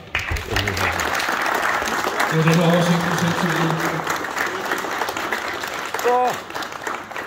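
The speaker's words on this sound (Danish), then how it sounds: "det må I gerne klappe af" An audience at a beer festival event in Frederikssund applauds steadily for several seconds while someone speaks Danish over the clapping.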